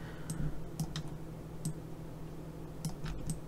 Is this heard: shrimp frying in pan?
no